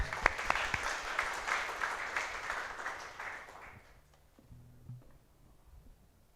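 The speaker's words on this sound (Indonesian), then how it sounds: "Kita beri aplaus lah ya." An audience applauds at a wedding ceremony, a dense burst of clapping that swells and then gradually fades away, leaving a quiet room.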